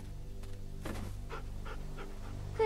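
A dog in The Walking Dead video game pants in quick, steady breaths over a constant low game hum, with a few louder huffs near the end.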